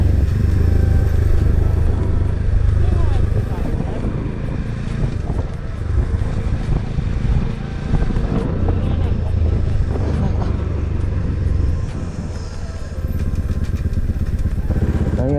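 A motorcycle rides along a mountain road toward Kuri village near Kalinchowk, Nepal, its engine droning loud and steady throughout with shifting pitch as it climbs, mixed with wind noise.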